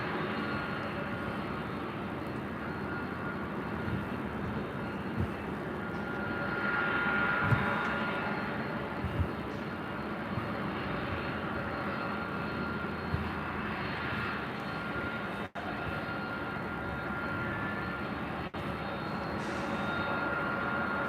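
A Lufthansa Boeing 747-8 Intercontinental taxiing at LAX, bound for Frankfurt, makes a steady, moderately distant engine whine and rumble that swells slightly around the middle and holds on throughout.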